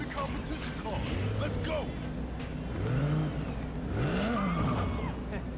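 A car in the video game GTA V revs and pulls away during a cutscene, engine rising in a few swelling accelerations over steady background game ambience, moderately loud.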